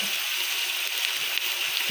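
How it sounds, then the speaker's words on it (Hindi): Water splashes into a pan of frying mutton with garlic, ginger, onion and spices, setting off a steady broad hiss and sizzle that stays loud and close without pause. "थोड़ा सा पानी ऐड करेंगे कि मसाले जल न जाए"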